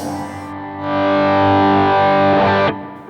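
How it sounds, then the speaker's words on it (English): A sustained distorted guitar tone swells in through a Jet Pedals Revelation ambient delay pedal, wet signal only, smeared and echoing, holding steady before cutting off with a brief scraping sound. "You just want to isolate the sound of the delay"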